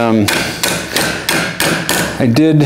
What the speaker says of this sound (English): do almost all of the hammering on the what's going to be the back side